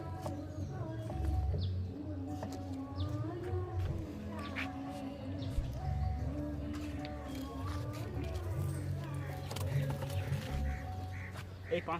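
Pigeons at a loft of flying tournament pigeons cooing and burbling repeatedly nearby, with people talking over the birds throughout.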